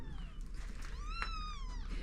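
A cat on a farm lets out a single rising and falling meow, clear and fairly close over a low background rumble.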